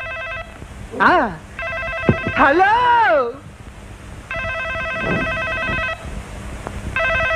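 A telephone rings in repeated electronic bursts, loud and close, between short stretches of speech, including someone speaking expressively and another voice answering.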